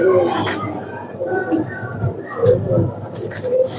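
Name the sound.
pigeons cooing, Salare Teddy breed pigeons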